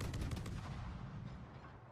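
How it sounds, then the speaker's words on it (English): Naval ship guns firing in World of Warships, a loud booming salvo that rolls and decays over about two seconds, with no voices. "He's open firing."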